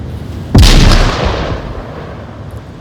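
A grenade explodes in the VR shooter Onward as one loud, close boom that rolls into a long fading rumble over steady game background noise.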